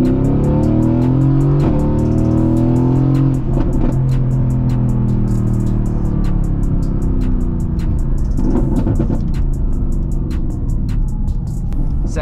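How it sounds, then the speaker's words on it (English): A modified 670 HP Mercedes-AMG GT S accelerates hard in second gear, its engine loud and close with a rising, continuous roar that dips briefly around gear shifts. "All right, second gear, acceleration."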